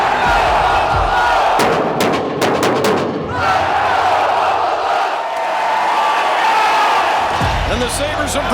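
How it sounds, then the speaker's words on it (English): A packed hockey arena crowd roars loudly during a Buffalo Sabres vs Boston Bruins Stanley Cup playoff game, a continuous thick wall of cheering with a few sharp bangs and a commentator talking over it. "The crowd, they're here. They're going off the charts here in the building"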